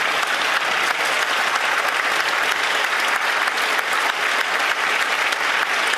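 Members in a parliamentary chamber during Question Period applaud, a dense, continuous and fairly loud wash of clapping from many hands with no voices above it.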